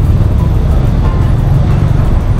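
Heavy evening rush-hour road traffic in Kuala Lumpur after light rain, a steady loud low rumble of many cars and buses close by with no distinct passes.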